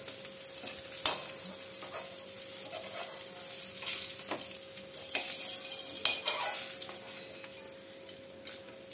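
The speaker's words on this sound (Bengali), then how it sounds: "কাতলা মাছটা ভেজে নিচ্ছি।" Katla fish frying in oil in a pan, a steady close sizzle with crackling pops and a few sharp spikes, continuous throughout with no talking.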